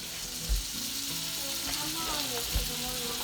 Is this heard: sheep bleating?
no